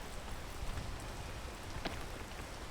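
Rain falls steadily in the video game PEAK, a dense even wash of drops with an occasional sharper patter, continuous and moderately close, with no speech.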